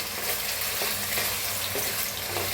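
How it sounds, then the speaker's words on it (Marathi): Potatoes frying in hot oil in a pan, a loud, close, continuous hissing sizzle with a few soft scrapes, with no talk. "टाकूया तेल आता छान असे भाजून घेऊया बटाटो छान असे बटाटे भाजून घ्यायचे"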